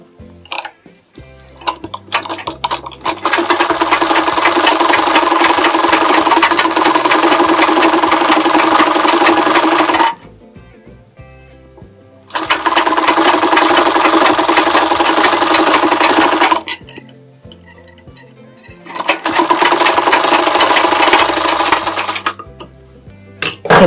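A sewing machine runs in three long bursts of rapid, even stitching on a blouse sleeve lining, separated by short pauses with light handling clicks.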